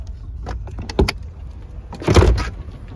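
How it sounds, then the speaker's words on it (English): Powered liftgate on a 2016 Ford Flex SEL: a few sharp clicks near the one-second mark, then a short louder whirring, latching burst close by, with no talking. "It is a powered liftgate."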